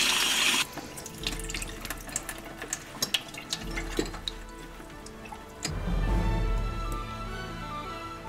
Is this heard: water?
yes